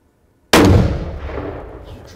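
A single loud 7mm magnum rifle shot fired during a deer hunt in the Missouri firearms season, a sharp close blast followed by a long rolling echo that fades out.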